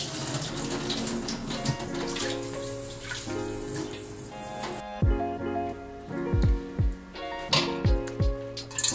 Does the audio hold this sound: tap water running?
yes